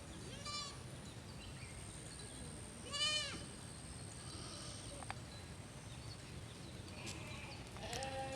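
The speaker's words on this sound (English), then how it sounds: "The goats and their sheep." Goats and sheep bleat in a rural forest community, a few distinct bleats spaced several seconds apart over faint outdoor ambience, moderately distant, with birds chirping briefly.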